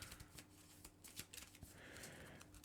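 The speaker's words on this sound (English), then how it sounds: "let me shuffle up the path deck" A deck of cards for the Earthborne Rangers board game is shuffled up close, with quick papery riffles and soft taps coming in short bursts.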